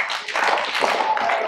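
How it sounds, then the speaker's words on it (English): Audience of children and parents clapping at a school winter awards assembly, a brief burst of dense applause in a hall. "Don't clap until Mr. Cagle and I are done."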